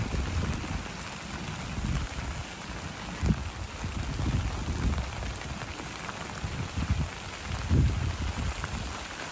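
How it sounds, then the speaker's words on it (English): Steady heavy rain pours down on an allotment plot, a dense continuous hiss with scattered louder drops and patters against surfaces, no voices. "when you're working in the pouring rain"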